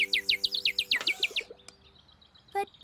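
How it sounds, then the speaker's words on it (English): A little cartoon bird chirps in a quick series of bright, repeated tweets, followed by a few softer scattered calls and clicks near the end. "The little bird! It came back!"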